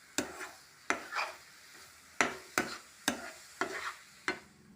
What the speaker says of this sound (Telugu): ఇప్పుడు 2 స్పూన్లు నెయ్యి వేసుకోవాలి. 2 స్పూన్లు ఇవన్నీ మిక్స్ చేసుకోవాలి.